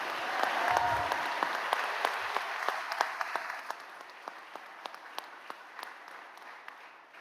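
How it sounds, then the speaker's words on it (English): A convocation crowd gives one more round of applause, fairly quiet and distant, starting as a full wash of clapping then thinning to scattered single claps as it dies away. "Let's give them one more round of applause."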